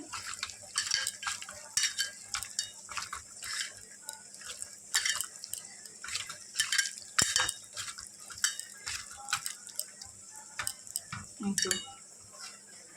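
Mashed masoor dal being kneaded by hand with mustard oil, giving soft, wet squelching and tapping sounds in an irregular rhythm against a bowl, close and fairly quiet, with no talking.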